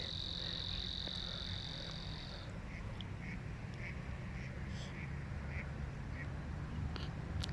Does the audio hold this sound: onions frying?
no